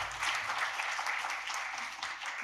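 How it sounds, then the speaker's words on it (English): An audience at a conference session on contemporary Korean music claps to welcome a speaker. The applause is dense and steady, heard from inside the room at moderate level, and fades toward the end. "Let's extend our warm welcome and appreciation with a round of applause."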